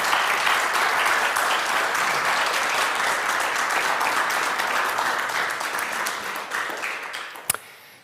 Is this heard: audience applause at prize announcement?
yes